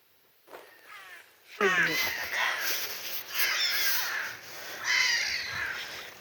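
Several harsh crow caws ring out in bursts over steady outdoor background noise, fairly close and loud, with a short quiet gap near the start.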